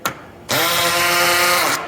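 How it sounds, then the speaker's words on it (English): A VEVOR 20V cordless hammer drill runs in hammer mode, a loud steady whir with a rattling pulse that starts abruptly after a brief quiet moment and holds for over a second before cutting off. "the hammer drill function does work"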